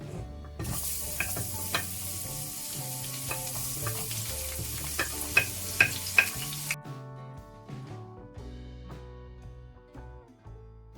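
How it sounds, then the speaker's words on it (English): Onions sizzle and fry in a generous amount of oil in a pan with eggplant, with steady frying hiss and repeated stirring and scraping clatters; the hiss stops partway through, leaving quieter cooking sounds. "So then we're gonna add in our onions."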